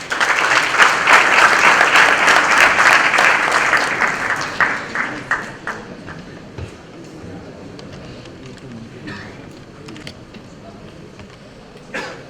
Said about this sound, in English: Please welcome Mr. Suresh Prabhu with a huge round of applause.